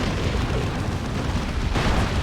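Manticore artillery rockets blast in Dawn of War 2: Retribution, a dense, continuous roar of overlapping explosions and booms filling the whole stretch, loud and close with a fresh surge near the end.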